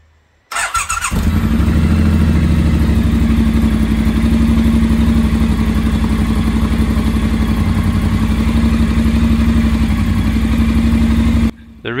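A Triumph Bonneville Speedmaster motorcycle fires up after a brief crank and settles into a loud, steady idle that runs for about ten seconds before abruptly cutting off.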